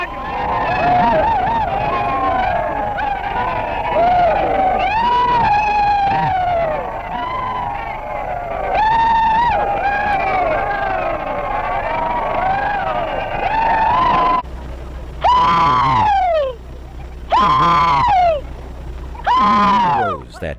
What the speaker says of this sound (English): we are going to make an effort to repeat the old rebel yell